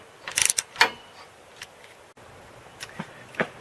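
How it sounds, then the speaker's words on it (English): A 3/8 ratchet with a 13mm socket tightens the top bolts on a Tusk spare tire carrier, giving a few quick clicking bursts early on, then sparse, fainter clicks and taps, close by with no talk. "Tighten up the top bolts with the 13mm socket and your 3/8 ratchet."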